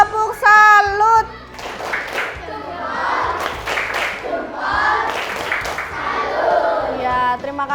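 Elementary classroom applause for a student group during a maths lesson, with children clapping in a rhythmic salute pattern and shouting along. A teacher's voice is heard at the start and end.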